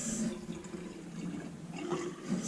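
A bathroom faucet fitted with a water-activated LED light runs in a steady, fairly quiet stream, with a soft hiss and gurgle and small splashes into the sink.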